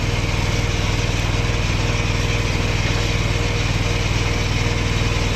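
A small gasoline engine on a pressure-washing rig runs steadily nearby while gear is rinsed after a pool-cage and house washing job, a loud, even, buzzing drone with no talk.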